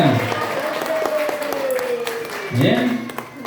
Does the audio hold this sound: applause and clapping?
yes